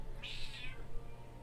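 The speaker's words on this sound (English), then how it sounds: "Hello, Fifi kitty" A pet cat gives a single short meow, faint and slightly distant, over a steady low background hum.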